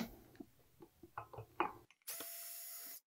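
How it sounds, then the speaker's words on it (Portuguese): A cordless screwdriver backs screws out of a brush cutter during disassembly. A few light clicks of handling come first, then one steady, close whirring run of about a second. "Vamos pegar aqui a parafusadeira para ficar mais rápido"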